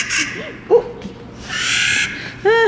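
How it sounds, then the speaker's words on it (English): A grouse call played through a bird-call button at a wildlife park in Kamloops, British Columbia, with short squawking call bursts and a sustained electronic-sounding tone, heard close and fairly loud. "That's a grouse in the bush."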